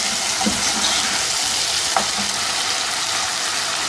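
Onion and tomato paste frying in a pan: a dense, even hiss of sizzling close by, with a few faint scrapes of a spoon and no talking.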